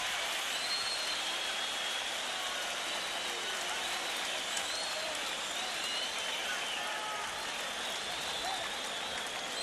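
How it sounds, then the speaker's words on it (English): A boxing arena crowd roars steadily and loudly after a fight, a dense, continuous wash of cheering and clapping that holds at the same level throughout. "Do you hear that crowd, Jake?"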